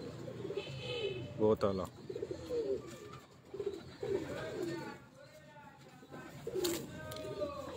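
A prized high-flying pigeon on a rooftop coos in soft, repeated throaty bursts, close and fairly quiet, while someone speaks over parts of it.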